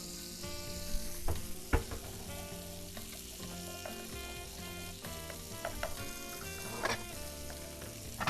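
Chicken thighs fry in a hot pan with a close, continuous sizzle and crackle, punctuated by a few sharp clinks and stirring scrapes, with no talking over it.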